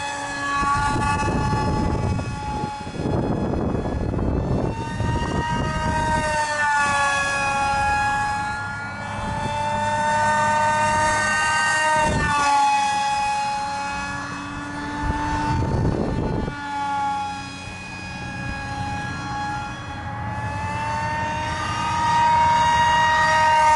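An RC foam A-10 Warthog model jet, driven by a 2700 KV motor on a 6x3 prop, flies overhead with a steady, loud electric whine that rises and falls in pitch as it banks and passes. No one speaks.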